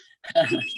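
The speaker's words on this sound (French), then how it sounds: "puis c'est le téléphone, tu sais." A household telephone rings inside a house, one short bright ring starting abruptly after a brief quiet gap and sustaining to the end, fairly close and clear with no talk over it.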